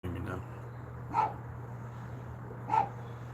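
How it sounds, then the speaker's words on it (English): A dog barks twice, spaced more than a second apart, at moderate distance over a steady low hum indoors. "Barking dogs, go inside."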